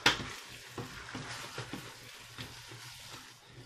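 Meat juices poured into a pan of chicken and mushrooms in a cream sauce, a soft splash and bubbling sizzle with faint stirring and clinks from the pan, moderately quiet and without talk.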